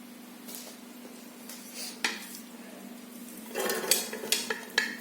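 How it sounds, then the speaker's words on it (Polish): Pan and utensil clatter with a soft sizzling of onion frying in a pot, scraping and clinking sounds growing busier toward the end, close up with no talk. "Wrzucamy do garka naszą cebulkę. Musimy ją chwilę podsmażyć."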